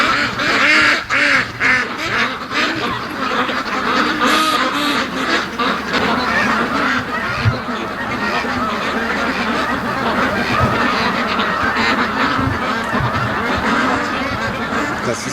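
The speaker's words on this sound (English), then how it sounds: "A big flock of Canada geese" A large flock of Canada geese circles overhead, honking continuously in a dense, overlapping chorus of calls that stays loud and close throughout.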